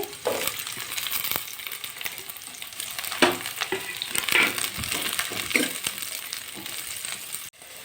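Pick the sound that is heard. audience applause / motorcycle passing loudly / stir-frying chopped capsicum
stir-frying chopped capsicum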